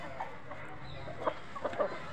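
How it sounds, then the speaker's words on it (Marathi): Native gavthi (gavrani) hens of an original village breed give a few short, soft clucks over a quiet farmyard background, with the clearest calls bunched near the end. "हे बघा, एकदम ओरिजिनल ब्रीडमध्ये गावठी कोंबडी आहे"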